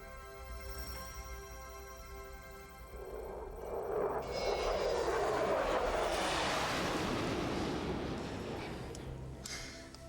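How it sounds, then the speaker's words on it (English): A jet aircraft flies past the Quantel factory, its broad rushing roar swelling up after a few seconds and staying loud and steady before easing slightly toward the end. No one speaks. "We keep the jet for people who are in a real hurry."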